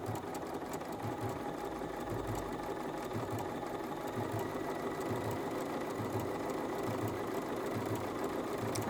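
IMA Moda sewing machine running a zigzag stitch, a steady close mechanical whir with a rapid regular needle rhythm, continuous throughout with no talking.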